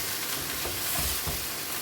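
Mutton frying with yogurt in a pot, a steady close sizzle and bubbling hiss with occasional low stirring thumps, fairly quiet and alone.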